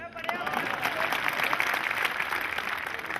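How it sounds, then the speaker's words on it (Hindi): Audience applause fills a hall at a Hindi comedy poetry gathering, a steady dense wash of clapping that holds loud and even throughout, with some voices mixed in. "ताली बजनी चाहिए"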